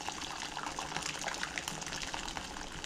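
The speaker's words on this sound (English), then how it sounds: "All we're going to do is tip a couple of liters of water into there" Freshly boiled water gushes from a jug into a container during home brewing, a continuous, faint, bubbly pour with no voices.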